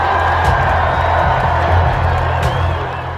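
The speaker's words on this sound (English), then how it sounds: "Clark and her teammates were honored on the field by a standing ovation" A stadium crowd at Kinnick Stadium gives a standing ovation, a broad sustained roar of cheering, whoops and clapping that stays loud and steady before easing slightly at the end.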